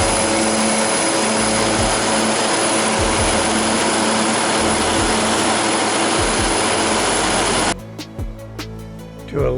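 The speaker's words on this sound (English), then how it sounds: "To eliminate the noise of the airplane, I muted the audio." A seaplane engine roars steadily and loudly on takeoff, a dense unbroken drone with a tonal hum, which cuts out abruptly near the end, leaving a few faint knocks.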